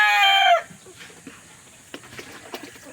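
A rooster crows loudly and close by for half a second, then hens cluck softly and intermittently in the background of a backyard flock that includes a Black Australorp.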